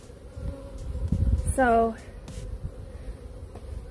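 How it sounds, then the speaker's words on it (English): Honeybees buzzing around an opened hive box during a hive split, a low steady drone close by, with a brief voice cutting in partway through. "See how many bees are in this box?"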